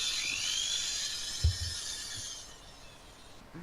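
High-pitched, continuous whine of drilling in a video game roleplay, steady for a couple of seconds and then fading, with a brief low thump near the middle.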